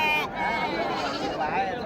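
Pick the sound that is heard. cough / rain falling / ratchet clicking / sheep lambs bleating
sheep lambs bleating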